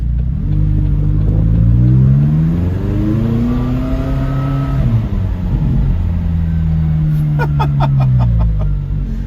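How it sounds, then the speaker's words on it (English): A McLaren sports car engine revs up loudly and close by, swelling, dropping back, then climbing again in a second long surge, with a brief light ticking near the end. "I want to hear the engine."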